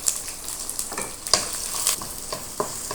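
Chopped garlic, onion and green chili go into oil alongside dried fish. They fry with a soft, steady sizzle broken by sharp crackles and pops at irregular intervals, heard close and without voices.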